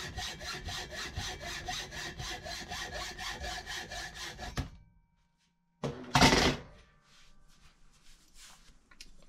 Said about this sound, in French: Et maintenant, on est prêt à faire la coupe. La lame sera guidée par l'encoche qu'on vient de réaliser.